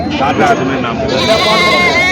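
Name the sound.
goat bleating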